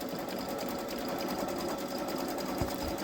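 A Baby Lock Solaris embroidery machine stitches out a pumpkin pillow piece, giving a steady, fast, continuous mechanical whir and needle clatter at close range with no pauses.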